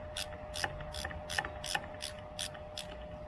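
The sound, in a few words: tightening brake pedal set screws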